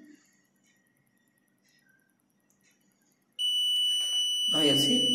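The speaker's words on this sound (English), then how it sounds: "Now you see buzzer is activated and the divider is moved to right side." After a near-silent stretch, the buzzer on a movable road divider model switches on abruptly with a loud, continuous electronic tone, and a voice briefly speaks over it near the end.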